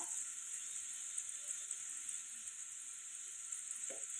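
Potatoes and carrots frying in a pan, a faint, steady high sizzle and hiss continuing without a break, with a brief soft clink near the end.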